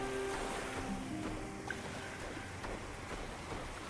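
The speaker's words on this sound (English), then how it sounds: "I can hear the waves crashing on the shore." Waves wash onto a lush, sandy beach in the Lords of Xulima game, a steady surf roar under faint sustained musical tones, soft and continuous.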